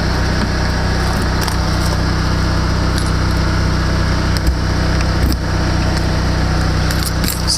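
A RevCon motorhome's generator engine runs steadily at close range, a constant droning hum with a light rattle and no pauses, loud and alone without voices.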